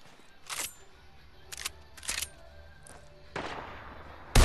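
Sniper rifle shots in a video game: several sharp, separate cracks spaced over a few seconds, the last one loudest and closest, over a low background hum.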